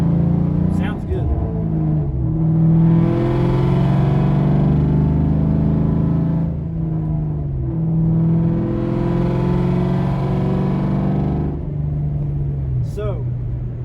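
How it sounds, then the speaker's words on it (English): A Ford Mustang Mach 1 with an SLP Loudmouth 1 exhaust rumbles loudly and close by, with two long rising revs and steady idling between them, and a voice speaking over it. "Got about 100 miles on this SLP Loudmouth 1 exhaust."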